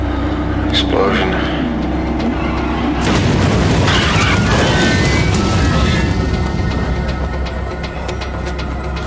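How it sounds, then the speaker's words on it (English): A loud explosion-like crash and rumble in a dramatized fire scene, with a sudden burst of broadband noise around the middle and a sustained roar afterwards, heard amid voices. "Explosion."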